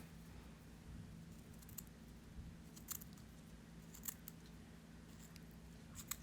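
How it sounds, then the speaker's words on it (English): Scissors snip through lace for an open spine bookbinding, a few sharp, light cuts at irregular intervals over a steady low background hum, fairly quiet and close. "So let me cut the lace here."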